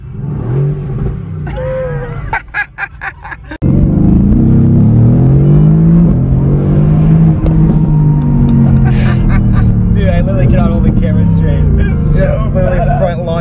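A Mercedes-AMG GT R is heard close up, first idling with a voice nearby, then roaring loudly as the engine revs and holds a rising, throaty note while people talk excitedly over it.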